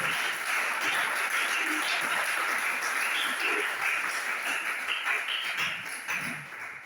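A church congregation applauding together in acclaim of the Lord, a dense, steady wash of many hands clapping at a moderate distance that tapers off at the end.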